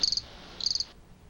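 Crickets chirping in two quick bursts of rapid, high trills separated by a short pause, fairly faint and close, with no voices.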